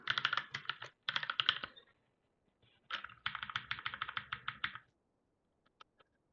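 Close, crisp keystrokes on a computer keyboard arrive in quick bursts of clacking, pausing briefly between runs, then trailing off into a couple of isolated taps.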